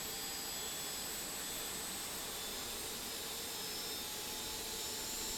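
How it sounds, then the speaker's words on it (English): Cessna Citation C-650 jet engines spool up in an airport tower simulation game at Cleveland, a steady broadband whine and roar with faint high tones, distant and unbroken. "You can hear those engines spooling up"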